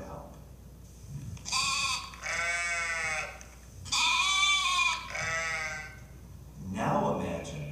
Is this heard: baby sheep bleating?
yes